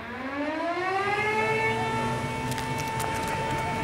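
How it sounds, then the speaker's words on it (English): Air raid sirens wail across Israel on the afternoon of October 6, 1973, the start of the Yom Kippur War, a loud sustained rising and falling tone with stacked harmonics, steady and alone. "It was 2 p.m. when the alarm sirens sounded in Israel."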